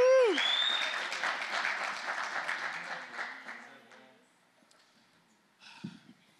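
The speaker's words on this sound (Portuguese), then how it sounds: "quem pode aplaudir Jesus por isso?" A church congregation breaks into applause during a sermon, starting with a whoop or cheer and then a crowd clapping that swells and gradually fades over several seconds before a brief murmur.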